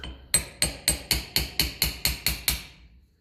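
Hammer taps out cut-off rivets on a 1953 Ferguson TE20 diesel tractor, ten sharp evenly spaced metallic strikes close up, each ringing briefly before the next.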